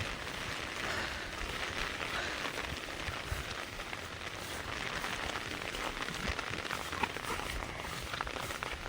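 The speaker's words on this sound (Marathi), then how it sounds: "असा खूप वेगाचा पाऊस चालू झाला आहे आणि हवा देखील सुटली आहे" Heavy rain pours down in a steady, dense wash of drops, continuous and unbroken throughout, with no voices.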